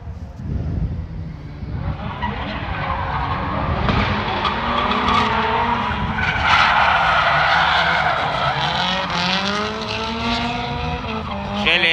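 A drift car's engine howls close by as its tires squeal and skid steadily through a long slide at a racetrack practice session, loud and continuous for the whole stretch with no talking.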